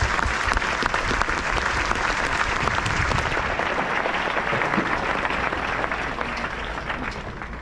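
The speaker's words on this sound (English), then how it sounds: "Please give them a round of applause." Sustained audience applause at a US Army Rangers demonstration of air, land, water and combat skills: a thick, continuous wash of many hands clapping, loud throughout and easing only slightly toward the end.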